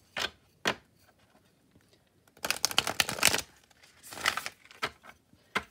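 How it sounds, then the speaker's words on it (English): Tarot cards are shuffled hard in a few brisk riffling bursts, with a couple of sharp taps before and after, close and crisp with no talking. "let me do some hard shuffles here first"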